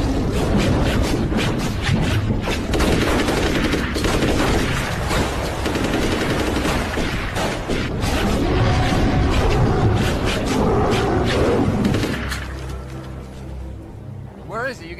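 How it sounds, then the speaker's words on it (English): Heavy, continuous gunfire from a horror film scene of shooting at a giant shark from a boat, a dense, loud roar of rapid shots and blasts that fades near the end. "I think I shot it a few times."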